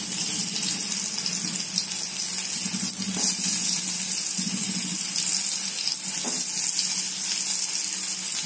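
Bitter gourd shallow frying in oil, giving a steady loud hiss and crackle that runs without a break, close, with faint bumps of movement underneath and no talking.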